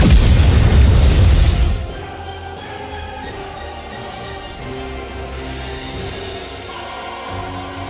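A huge booming blast from the Eden spear weapon in the game NIKKE, loud and close, roaring for about two seconds before cutting off into a low, sustained rumble with music underneath.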